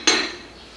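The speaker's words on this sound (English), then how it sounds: "We'll put the lid back on using our oven glove because it's very hot." A metal lid set back onto a hot pot of Thai beef curry with an oven glove makes a single short clink that rings briefly and fades.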